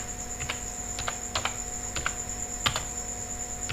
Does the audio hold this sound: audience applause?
no